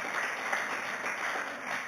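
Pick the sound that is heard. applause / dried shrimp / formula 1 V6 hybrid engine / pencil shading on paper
applause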